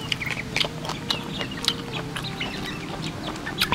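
Chickens cluck in short, scattered bursts at close range while pecking at mango, with a steady farmyard murmur underneath.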